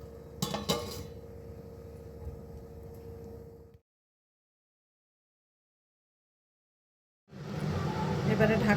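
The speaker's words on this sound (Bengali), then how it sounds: "এবারে ঢাকনাটা খুললাম।" A metal pot lid is lifted off a pot of chicken curry with a quick clattering knock. A low hum continues briefly, then silence, then steady noise returns.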